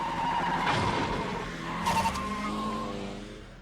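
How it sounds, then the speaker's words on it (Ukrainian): Racing car tires run through a roadside drainage ditch on a mountain road, with a loud continuous engine roar, a scraping skid, and a brief burst of tire noise near the end. "Він починає вклинювати шини в придорожню дренажну канаву."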